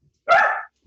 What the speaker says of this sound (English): My dog, sorry.